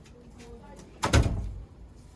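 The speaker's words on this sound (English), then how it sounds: "Can you close that door, please, Miss Tutu?" A door pulled shut indoors, a single muffled thud with a brief rattle, moderately loud against a quiet room.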